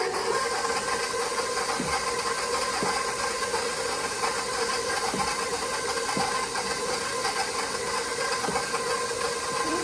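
An electric mixer beats banana bread batter as flour is added, giving a steady, continuous motor whir with a faint mechanical rattle, fairly loud and unbroken throughout with no talking.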